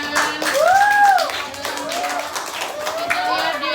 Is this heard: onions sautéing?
no